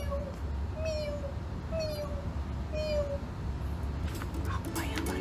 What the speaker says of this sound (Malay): mereka terdengar bunyi kucing mengiau dengan perlahan